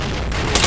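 Grenade blast in a first-person shooter, a loud, close, booming explosion that fills the short moment with broadband rumble and a sharp burst of noise partway through.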